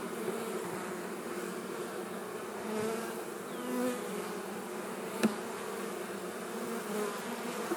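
Honey bees swarm around an open hive during an inspection, making a dense, steady buzz that stays constant throughout. Single bees fly close by now and then, with one sharp click near the middle.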